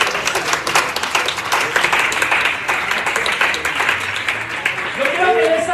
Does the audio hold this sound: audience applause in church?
yes